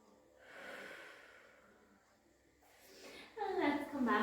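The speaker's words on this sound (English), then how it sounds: "Really filling up the backs and sides of the lungs and rib cage with each breath." Deep Pilates breathing comes from close by: a long, soft airy inhale, then a quiet pause and a louder voiced exhale near the end, with speech in the final moments.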